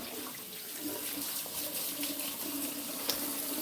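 Water pours steadily into a kitchen sink being filled to soak produce, beetroot and apples, as a soft continuous rush with one small clink near the end.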